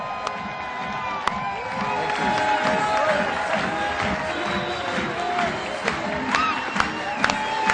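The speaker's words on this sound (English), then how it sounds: "So please help me give a huge round of applause for Mr. Keith Cunningham!" A large audience cheers, whoops and applauds loudly and steadily as a speaker is welcomed on stage, with sharp claps and shouts rising out of a dense, continuous roar of crowd noise.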